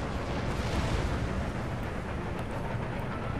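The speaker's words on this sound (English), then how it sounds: "Regular old gunfire will suffice." Dense, continuous battlefield roar of massed musket and cannon fire in Empire: Total War, a broad rumbling wash of overlapping shots heard at a distance, fairly faint and unbroken.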